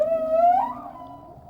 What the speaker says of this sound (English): Diving this close to a singing whale is an extraordinary experience.